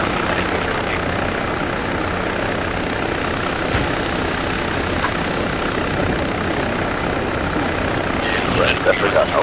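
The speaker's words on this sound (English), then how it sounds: "I forgot how loud the helicopter is when you're on the pilot seat" Helicopter engine and rotor roar heard from the pilot seat in a military simulation video game, a loud, steady, dense drone filling the whole clip with faint game sounds near the end.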